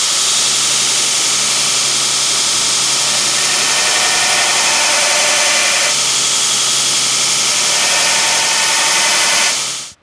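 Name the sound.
belt grinder grinding a fossil Damascus kitchen knife blade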